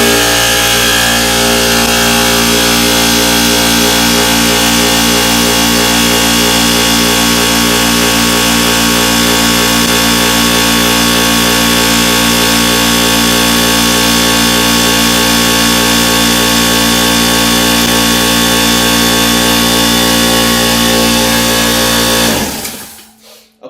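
A Craftsman shop air compressor runs loud and close with a steady mechanical drone and rapid pumping rattle, continuing unbroken until it cuts off abruptly near the end.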